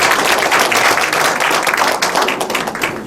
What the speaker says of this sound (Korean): 좀 큰 박수로 환영해 주시기 바랍니다